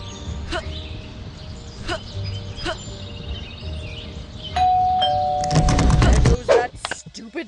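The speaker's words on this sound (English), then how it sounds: "Bell again." A doorbell chimes repeatedly in a cartoon setting, a series of clear ding-dong tones at intervals that stay moderately loud, followed by a louder busy burst of sound near the end.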